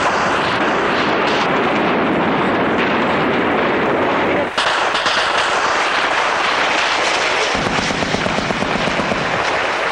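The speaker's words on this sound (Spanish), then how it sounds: "Había mucho disparo." Dense, continuous roar of gunfire and explosions during an intense ground bombardment in a coup-era battle, loud and chaotic with overlapping blasts throughout and no clear pauses.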